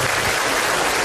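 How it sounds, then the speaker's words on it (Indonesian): A studio audience at an Indonesian comedy talk show claps, a loud, dense wash of applause that fills the whole short moment. "Iya, tepuk tangan dong."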